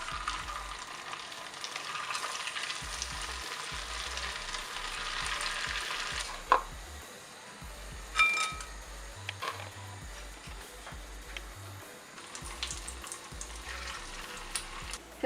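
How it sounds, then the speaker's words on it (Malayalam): Rice flake and potato fingers sizzle as they fry in hot oil, a steady close crackle with occasional stirring clinks and scrapes and no talking. "ഇതുപോലെ ബാക്കിയുള്ളത് നമുക്ക് വറുത്തെടുക്കാം."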